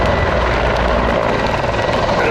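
A Czech Air Force Mil Mi-35 Hind from the 221st Helicopter Squadron flies a display at the Duxford air show, its loud rotor and turbine roar filling the air in a thick, continuous wash as a voice talks beneath it.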